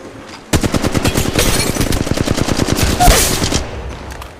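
Automatic weapon fire in the Apex Legends Mobile video game: one loud, continuous burst of rapid, evenly spaced shots lasting about three seconds, close and dominant, stopping abruptly.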